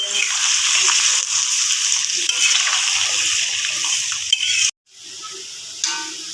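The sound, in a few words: potatoes frying in mustard oil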